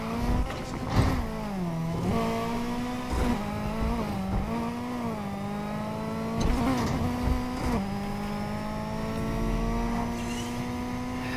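Car engine in the Need for Speed Heat racing game revving steadily at high pitch, rising through gear shifts with brief dips and climbs, loud and continuous with occasional thumps, no talking.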